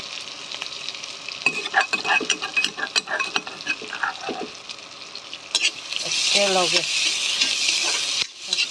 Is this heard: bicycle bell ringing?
no